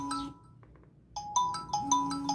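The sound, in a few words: incoming call ringing on Z79 Max smartwatch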